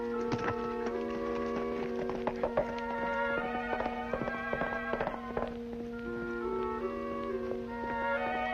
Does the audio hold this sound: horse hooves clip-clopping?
yes